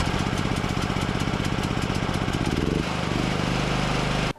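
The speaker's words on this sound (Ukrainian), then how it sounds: "ми беремось за шнурок і смикаємо його, запускаючи мотор вручну" Petrol generator engine started by hand with a pull cord, running with a loud, steady rapid chug close by, then its rhythm shifts partway through before it cuts off abruptly at the end.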